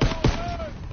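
Gunfire in Call of Duty WW2, two or three sharp, closely spaced shots within a second over a dull background hum.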